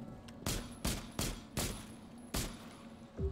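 Gunfire in a video game: five or six separate sharp shots, fairly evenly spaced, each crack trailing off briefly over a faint background hum, with no voices.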